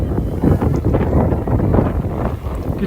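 Gusty wind at Castle Combe motor-racing circuit during a bike race, roaring and buffeting the microphone as a continuous, loud, turbulent rush with no talk.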